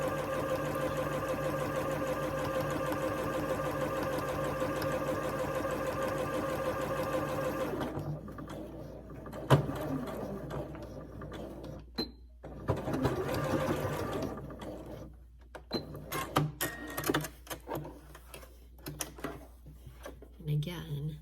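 A sewing machine runs steadily for about eight seconds, stitching a straight seam with a fabric guide. Its motor then stops, and scattered handling clicks and a voice follow.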